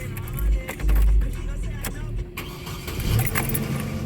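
A 2009 Chevy Colorado with a no-start fault cranks and fires up, giving low rumbling bursts that settle into a running engine, close by, with a voice speaking over it.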